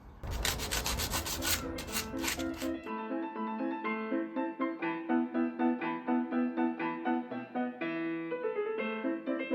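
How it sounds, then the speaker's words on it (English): Dowel joints on a wooden dining chair are rubbed clean, making brisk, rhythmic scrubbing strokes up close for about three seconds before the rubbing stops and a tonal background remains. "Get rid of that, make those dowel joints nice and clean"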